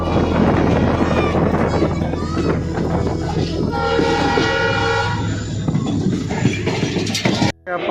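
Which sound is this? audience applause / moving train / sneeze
moving train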